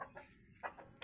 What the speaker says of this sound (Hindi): ये मैंने एक बैंगम असील रखा हुआ है और साथ एक बैंगम असील मुर्गी भी है